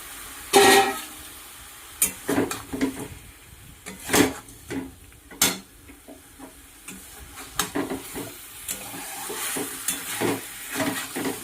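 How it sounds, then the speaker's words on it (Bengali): Fish going into a pan of braised cauliflower and potato for a fish curry, heard as loud frying and sizzling with repeated spoon scrapes and clatters against the pan and no talk. "ফুলকপিটা কষানো হয়ে গেছে, এবার আমি মাছটা দিয়ে দেবো।"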